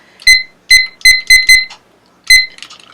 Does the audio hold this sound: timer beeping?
yes